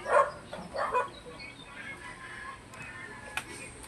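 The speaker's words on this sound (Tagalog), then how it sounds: "ingay ng mga aso" A few dogs bark in short bursts near the start, then fade into quieter ambient noise with occasional faint yips.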